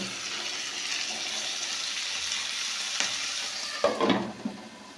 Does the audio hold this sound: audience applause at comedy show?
no